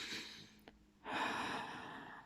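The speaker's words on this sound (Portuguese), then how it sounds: "quando é o som da respiração, quando eu respiro" A person demonstrates breathing: a soft airy exhale, a short catch, then a longer steady breath out, close and quiet with no talk.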